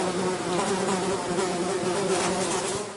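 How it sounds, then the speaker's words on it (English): A fly buzzes steadily and close for a few seconds, a continuous droning hum with no pauses. "Fly."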